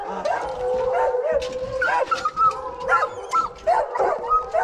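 Hunting hounds bay and yip in excited bursts while chasing a bear in the northern Maine woods, several dogs overlapping at moderate distance with rising, wavering howls.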